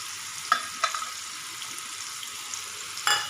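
Onion and tomato frying in hot oil for a tadka tempering, a steady sizzle with a few soft stirring scrapes and clinks, close and fairly quiet with no talking.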